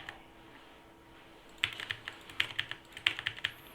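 Computer keyboard typing during data entry in an SQL tutorial, heard alone as a quiet stretch followed by irregular clusters of crisp, close key clicks.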